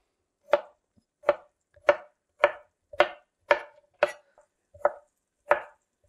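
A knife chops asparagus on a cutting board: about nine crisp, evenly spaced thuds, close and distinct, with quiet gaps between strokes.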